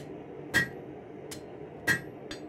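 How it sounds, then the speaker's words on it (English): Hot cut chisel hammered through hot steel at a forge: two loud, sharp metallic strikes about a second and a half apart, each followed by a lighter ringing tap, over a quiet background. "There's the slice that hot cut made in there."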